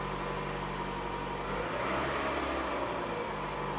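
A 2007 Toyota Highlander engine idles steadily during valve cover, PCV valve and position sensor work, a continuous mid-pitched hum with a slight swell partway through, heard up close with no talking.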